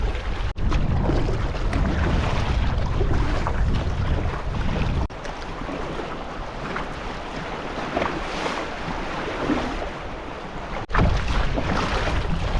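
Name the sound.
wind blowing while kayaking across an open bay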